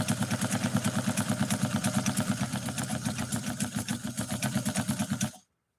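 A rare New Home Model 444 sewing machine runs steadily after being started with a knee controller, giving a close, rapid, even mechanical chatter at a constant pace that cuts off abruptly near the end.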